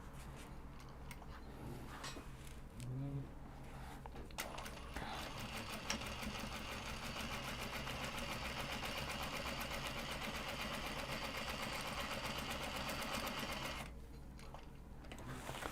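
Sewing machine stitching welt pockets on a fabric cross-body sling, a fast steady mechanical whirring run of about nine seconds after brief starts, close and alone.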